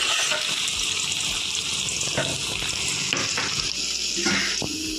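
Thin, long-cut potato strips fry in a spoonful of oil in a pan, a loud steady sizzle with occasional stirring scrapes and clatters throughout.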